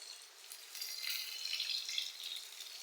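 Chopped onion and tomato frying in hot oil, a thin, hissing high sizzle that swells a little and holds steady at low volume with no voices.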